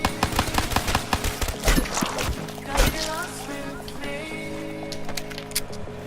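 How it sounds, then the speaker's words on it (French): Rapid bursts of gunfire from the Call of Duty zombies map Kino der Toten, sharp repeated shots in uneven clusters over a dense background of game effects and music, with a voice speaking intermittently. "on tire vraiment sur les zombies pour faire un maximum de points"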